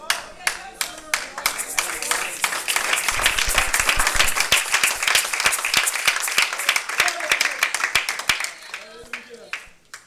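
A church congregation claps together, sparse separate claps at first building into steady, dense applause that thins out again toward the end, close and full in the room.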